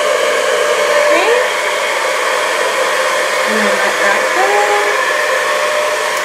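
A hair dryer blows steadily and loudly throughout while hair is brushed smooth, a constant close whooshing roar with no pauses.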